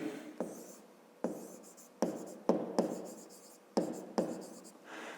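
A pen scratches across paper as a math solution is written out by hand, a series of quiet, close strokes in irregular bursts with short pauses between them.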